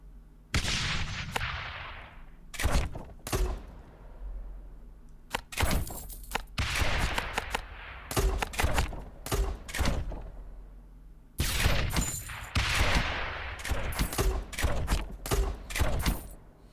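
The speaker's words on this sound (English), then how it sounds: "That mortar missed entirely." Mortar blasts and gunfire from the tower-defense video game Rogue Tower, sharp bursts of shots in irregular clusters with several heavier booms that die away, loud and close throughout.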